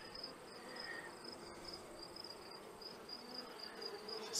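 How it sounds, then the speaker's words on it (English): A worker honey bee buzzes at a beehive, a soft, steady drone with a thin high whine running through it, faint and continuous against quiet outdoor ambience. "Just the worker bee, checking it out."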